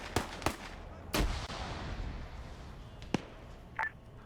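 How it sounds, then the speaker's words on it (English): Scattered sharp blasts in a military video game where grenades are thrown at a disabled vehicle: a few quick cracks and one heavier boom, with faint rumble and distant pops fading in between. "They're putting grenades on that thing, even though I think it's disabled."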